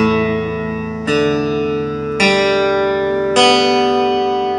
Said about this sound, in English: This is the sound of the Woody Seymour Duncan SC pickup connected through a Marshall amp.